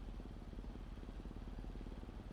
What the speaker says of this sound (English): Car engine.